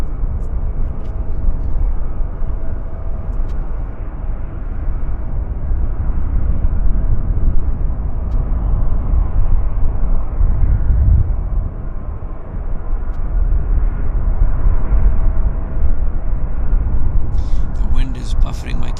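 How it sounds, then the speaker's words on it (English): An Airbus A319 airliner taxiing at Vancouver Airport, a loud, steady low engine rumble with wind buffeting the microphone, heard under ongoing talk. "And then we've got our 319 taxiing right here."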